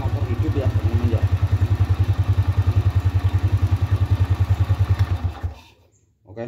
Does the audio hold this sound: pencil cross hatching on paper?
no